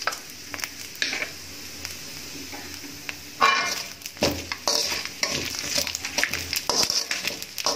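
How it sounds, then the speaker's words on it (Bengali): Mustard seeds, nigella, bay leaf and dried chili hit hot oil for a Bengali tempering, giving a close sizzle with stirring scrapes and short crackling bursts that grow busier toward the end, with no talk. "ফোড়নে দিয়ে দিব সরিষা, কালো জিরা, তেজপাতা,"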